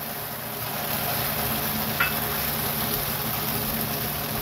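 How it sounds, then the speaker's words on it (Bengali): Spice paste frying in oil in a pan, for a Bengali potol dorma dish, giving a steady, moderately loud sizzle throughout with a brief clink midway and no talking. "ওই তেলেই মিক্সিতে সব পেস্ট বানিয়ে নিয়েছি, এবার ঢেলে দিলাম।"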